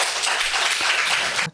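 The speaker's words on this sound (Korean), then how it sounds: "우리 하나님 박수 올려드립니다" A church congregation claps together during a Sunday worship service, a dense, steady wash of applause filling the room for a brief stretch before cutting off.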